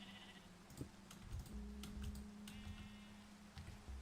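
Sheep bleating in a Minecraft world, several drawn-out calls close by over a low steady hum and scattered game clicks, with no talk.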